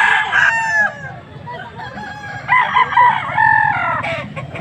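Young stag rooster crowing at a cockfighting gathering in Pampanga, several close, loud cock-a-doodle-doo calls in a row with clucking from other fowl, and faint crowd noise beneath.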